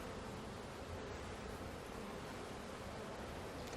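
Dense, steady buzzing of bees swarming around a hive during a honey harvest, a continuous close hum with no talking.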